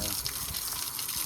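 Strong rush of water pouring from a pump motor's outlet, a steady broadband gush close by that fills the whole clip.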